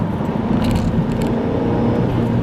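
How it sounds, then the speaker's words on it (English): An Alfa Romeo Stelvio Quadrifoglio roars steadily and loudly under hard launch-control acceleration, a dense rumbling exhaust note throughout with no pauses. "Let's start off with launch control"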